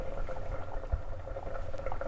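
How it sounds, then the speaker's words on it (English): A pot of smoked pork with chilies bubbles at a steady boil, with a continuous dense simmering patter and occasional small pops, close and alone with no talk. "it's boiling nicely"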